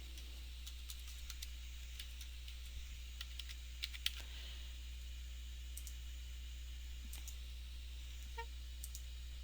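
A credit card number tapped out on a computer keyboard, with faint, scattered key clicks over a steady electrical hum and hiss in a quiet room.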